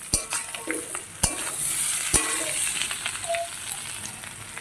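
Jackfruit and liver being stirred in a frying pan, with steady close sizzling, several sharp scrapes and clacks of a spoon against the pan, and soft scraping between them, no voices.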